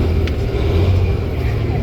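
A truck maneuvering slowly while hauling wood pallets, its engine a steady, loud low rumble with a brief higher whine, heard close and continuous.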